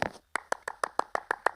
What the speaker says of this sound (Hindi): उनके लिए ताली ऐसे बजनी चाहिए।